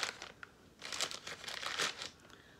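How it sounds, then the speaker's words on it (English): A potter's wire tool slices down into a plastic bag of clay, giving quiet, close bursts of crinkling and rustling plastic in uneven spurts. "I'm going to cut down into my bag of clay"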